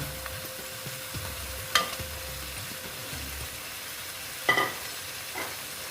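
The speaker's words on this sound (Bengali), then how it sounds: "বেগুনগুলো দিয়ে এটার সঙ্গে একটু কষিয়ে নিচ্ছি" Eggplant pieces sauté in a mustard masala with a faint, low sizzle, broken by a few soft stirring scrapes and two sharper clinks of a spoon on the pan.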